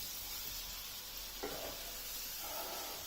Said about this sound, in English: Stir frying everything into a condition where every piece of vegetable gets coated with the cooking oil